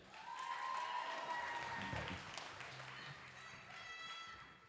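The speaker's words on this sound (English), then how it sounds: "Give a huge, massive round of applause to our next band" Audience applause for a band at a live concert at a 2022 Smokefree Rockquest youth band heat in Manukau: a steady, dense wash of clapping and crowd noise over sustained ringing stage tones, easing slightly toward the end.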